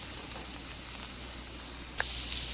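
Onions and red chilli sauté in a pan with a steady, even sizzle and hiss throughout, one brief clink of a utensil near the end, with no voices.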